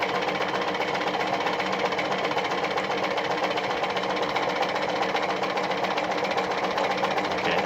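An Adlerina model 240A sewing machine runs continuously, a fast, even mechanical whir and rattle heard close up and steady throughout, with nobody speaking.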